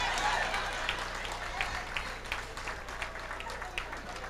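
Audience applause at a 1994 Caribbean stand-up comedy show, a moderate patter of scattered clapping from a crowd that holds steady throughout and is fairly faint.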